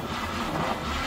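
The engine of a burnt Chevrolet Nova, abandoned for 30 years, runs at about half throttle in a brief, fairly faint, steady rumbling drone with no talk.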